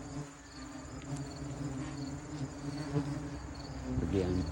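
Bald-faced hornets swarm around their disturbed nest, giving off a continuous droning buzz with individual insects passing close, over a low background hum.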